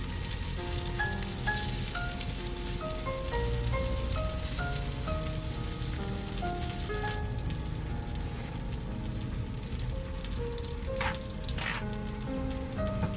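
Tofu slices pan-frying in a shallow layer of oil, a soft even crackle like light rain running throughout beneath a gentle background melody, no speech.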